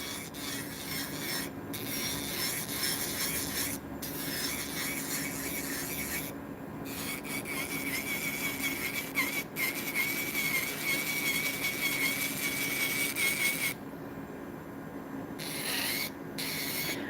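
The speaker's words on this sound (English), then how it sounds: "This is a safety drill bit." An electric nail drill fitted with a safety bit runs at 5000 RPM on acrylic nails, giving a continuous faint whirring, grinding rub with brief pauses and occasional changes in pitch.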